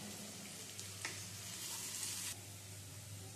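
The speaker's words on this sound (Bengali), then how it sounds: "পেঁয়াজটা প্রায় ভাজা ভাজা হয়ে এসেছে।" Onion frying in a pan with a little salt, a steady sizzle with faint stirring and scraping, close and continuous, with no talk.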